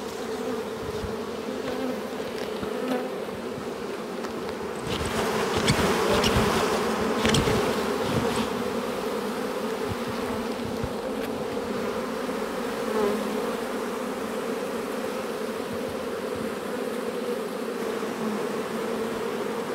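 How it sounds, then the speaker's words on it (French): Honeybees swarm thickly over an open hive crowded with brood frames in spring, giving a dense, steady buzz close at hand with brief louder surges as bees fly near. "Beaucoup d'abeilles aussi, c'est blindé."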